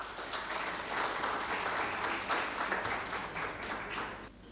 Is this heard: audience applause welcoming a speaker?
yes